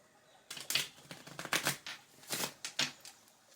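Tarot cards are shuffled by hand in a quiet room, with several quick papery riffles and flutters in short bursts, close and fairly soft.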